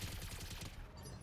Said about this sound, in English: Maybe the machine guns will break some armor.